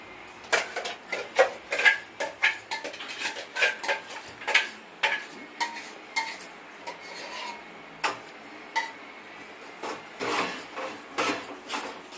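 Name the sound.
stirring tomato-onion paste into curry in a pan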